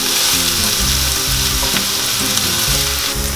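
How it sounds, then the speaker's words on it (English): Onions frying in a pan while butter chicken is prepared, giving a steady, close, loud sizzle that runs unbroken with no voices over it, joined by soft tonal music in the background. "And we'll fry these onions till they are golden brown in color."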